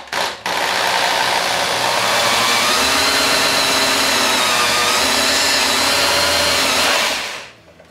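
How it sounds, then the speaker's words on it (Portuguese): A homemade electric orange juicer driven by a mixer motor whirs loudly and steadily for about seven seconds after a brief start, then winds down near the end, with no talk. "Vamos dar uma pequena forçadinha para baixo e funcionar a nossa batedeira."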